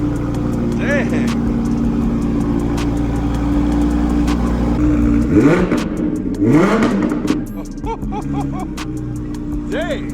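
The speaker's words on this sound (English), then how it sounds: "We're going to fire up the Ferrari F12 and take it for a ride and see what it sounds like" A Ferrari F12 fitted with a Frequency Intelligence exhaust idles and blips its throttle, with a steady deep drone and a couple of short revs rising above it. Voices are heard faintly.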